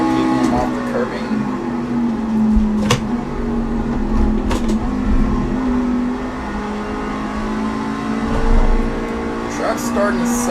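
A race truck's engine drones steadily at Watkins Glen in a truck racing game, a constant mid-pitched whine with slight rises and dips and occasional sharp clicks, loud and continuous throughout.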